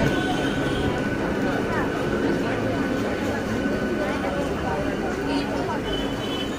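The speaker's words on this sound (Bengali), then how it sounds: "নেমে গেলাম ট্রেন থেকে।" Train pulling into Bhadreswar station, a loud steady rumble of rolling wagons with faint wheel squeal and rattling, continuous and close for several seconds.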